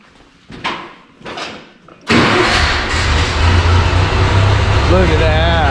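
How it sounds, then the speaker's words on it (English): A JLG 40G lift's engine cranks briefly after a couple of soft knocks, then catches and settles into a loud, steady mid-pitched idle with a slight waver, close by and without talk. "Let's go see if it'll crank and fire."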